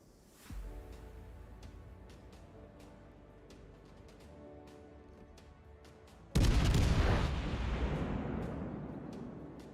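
Heavy naval guns of the cruiser Des Moines firing in World of Warships, a rumbling battle bed with a sharp broadband boom midway followed by a long decaying roar, faint periodic clicks throughout.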